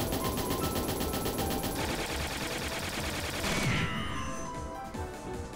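Rapid machine gun fire in the video game Trails in the Sky the 3rd: dense, continuous bursts of shots that hammer on steadily, with a louder crash near the middle before the volley thins out toward the end.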